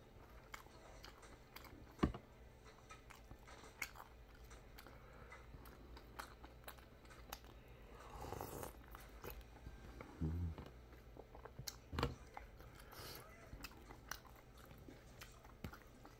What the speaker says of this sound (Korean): 아침 밥 먹습니다.